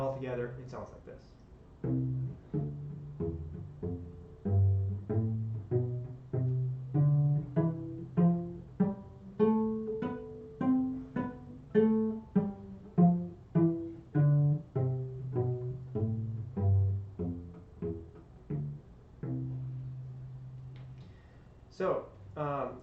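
Beginner cello plays a run of single bowed notes across all four strings, moving through the open and fingered notes on each string in a steady stepwise sequence, close and alone with no talking.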